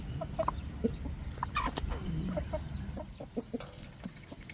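A pair of Shamo chickens on a farm, including a hen, clucks in short repeated calls against a low, steady farmyard background.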